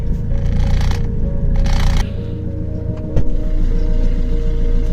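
A car engine starts amid heavy rain, with a brief lull before a sharp start and a steady low rumble continuing under the constant hiss of rainfall.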